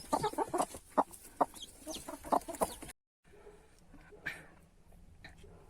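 Newly hatched, still-wet chicks cheep in a quick series of faint, high chirps close by, then a brief silence gives way to quieter, sparser peeping.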